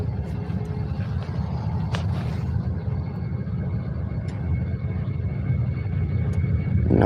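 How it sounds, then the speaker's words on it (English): A Ryanair airliner departs Faro airport, a steady broad jet engine roar heard from a distance that slowly grows louder, with no talking. "We've got a Ryanair departure."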